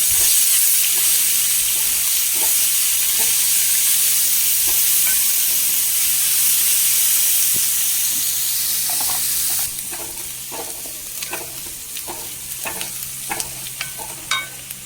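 Carrot, onion, ginger and green chilli sautéing in a pan, a steady loud sizzle at first, then quieter frying broken by repeated scraping and stirring strokes of a spoon.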